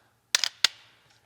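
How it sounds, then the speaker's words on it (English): A trigger pull on a firearm fitted with a Mantis laser training system, with sharp close clicks as the sear resets, a quick double snap followed by a second crisp click, then silence. "So one shot per pull, laser flashes, and it resets that sear."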